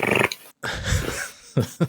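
A human voice imitates a wet leopard growl: two rough, throaty snarls, loud and close, split by a brief gap, then two short grunting bursts.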